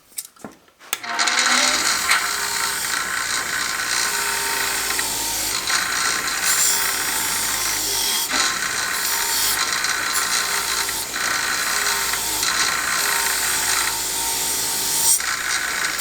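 A flap disc grinds a steel four-edged dagger blade in a loud, continuous abrasive rasp. It starts after a brief clatter and runs almost without a break, with slight shifts as the disc moves over the steel.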